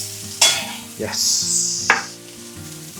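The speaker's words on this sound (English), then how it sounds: "we're going to add all our garlic and chilies, all that flavour and heat going in" Garlic and chilies hit a hot pan and fry, a hiss of sizzling with a few sharp stirring clatters, close and fairly loud; a voice briefly speaks.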